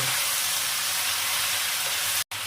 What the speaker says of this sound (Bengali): পুঁই শাকটা দেওয়ার পরও সবজিগুলো একটু ভালো করে কষিয়ে নেব